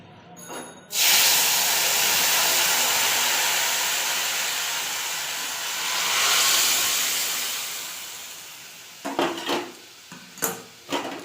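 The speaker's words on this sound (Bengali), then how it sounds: "ভাজা ভাজা হয়ে গেছে আমি ডালটা ঢেলে দেবো" Mung dal with papaya, a Bengali vegetarian dish, is poured into a hot pan and bursts into a loud, sustained hissing sizzle that slowly fades, followed by a few sharp clinks of utensils against the pan.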